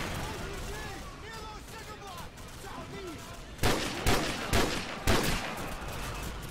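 Gunfire in the shooter game Call of Duty 4: Modern Warfare, about four loud, separate shots in the second half, following a stretch of speech-like sounds and quieter background battle noise.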